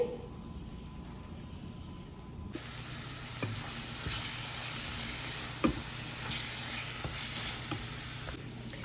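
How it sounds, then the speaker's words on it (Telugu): Carrot halwa (gajar ka halwa) being stirred in a pan on the stove after sugar is added, a steady close sizzling hiss with scraping stir strokes and a few louder knocks, no talking. "ఇందులో మనం మధ్యలో కదుపుతూ ఉండాలి బికాజ్ కింద మాడిపోతూ ఉంటుంది"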